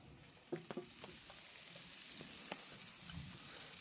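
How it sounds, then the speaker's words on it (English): Noodles hitting hot oil in a fry pan, a few sharp crackles and pops near the start over a soft, steady sizzle that continues quietly to the end. "So this is the noodles going on."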